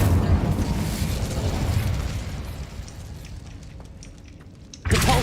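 Incendio fire spell cast in the Hogwarts Legacy video game, a loud burst that roars and trails off over several seconds before a sharp new hit at the end.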